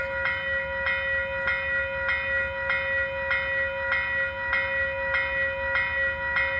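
A passing train, probably Amtrak, near Croton Falls: a steady high tone with a regular rhythmic clack repeating about every half second over a low rumble, fairly close and loud, with no talking.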